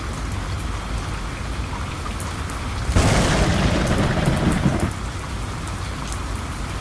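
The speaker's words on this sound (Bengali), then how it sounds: "অনেকদিন পর আসলে বৃষ্টি হলো।" Steady rain falls continuously, a dense hiss that swells into a heavier, louder downpour for a couple of seconds before easing back to its earlier level, with no voices.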